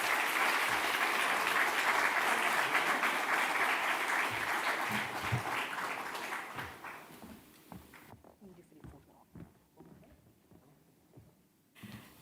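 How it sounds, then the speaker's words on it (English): Audience applause at the Caribbean Investment Forum launch in Barbados, thick and steady at first, then thinning out into a few scattered claps as it fades toward silence. "Please give him another round of applause."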